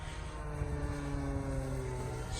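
A small radio-controlled T-34 Mentor model airplane with a tuned motor runs steadily nearby, a continuous buzzing drone holding a constant pitch throughout with no talking.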